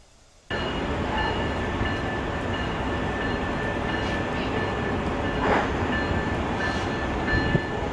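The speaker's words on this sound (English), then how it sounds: "745 Huntington for Jefferson train now arriving track 8" A Long Island Rail Road train pulls into a station track. After a quiet start, a steady, loud rumble rolls in, with a faint high squeal running through it and a brief swell near the end.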